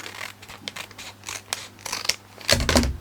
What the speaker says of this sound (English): And I'll just cut this bit off.